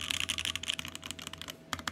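Rapid typing on an Aeroboard70 mechanical keyboard, PCB-mounted with somewhat hollow, resonant alphas, giving a steady run of close, crisp keystrokes that bunch into quick bursts, with no talking.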